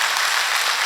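Brief, loud burst of dense crowd applause at a saints' gathering at a Dera Baba, many hands clapping together in a steady close wash without speech.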